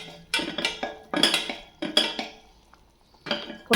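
Cooked mutton is tipped into a pan of sautéed onion and curry leaves, bringing a few close metallic clanks and scrapes of a spoon against the pan in short bursts with brief pauses between.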